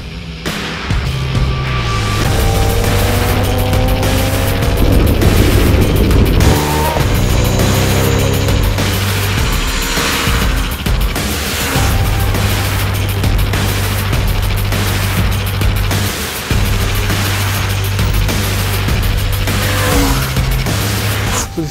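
A Bajaj Dominar 400 motorcycle being ridden, its engine loud and close with a steady drone, repeated revs and gear changes and rising whines as it accelerates, under a constant rush of wind.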